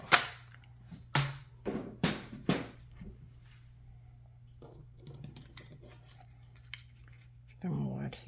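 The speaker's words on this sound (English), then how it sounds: "put it in my trimmer here and center it as best possible and just cut it down the middle" A paper trimmer slices a card down the middle in four or five crisp, close cutting strokes near the start, then faint handling noises follow and a soft voice comes in at the very end.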